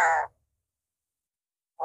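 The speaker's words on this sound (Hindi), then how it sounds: "ये जैसा कि आपने तोते की आवाज़ सुना," A parrot known for chanting patriotic slogans lets out a short, harsh, loud squawk. Silence follows, and another call starts right at the end.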